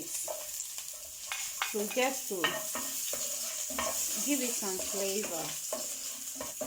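Onion frying in warm oil in a pan, a continuous sizzle with stirring scrapes running under a voice talking throughout.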